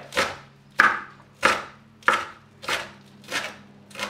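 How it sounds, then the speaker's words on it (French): Fresh chives chopped into small pieces on a board, seven crisp knife strikes at an even, unhurried rhythm, close and clear with no talking. "Il suffit juste de venir la découper en petits tronçons, en petits dés."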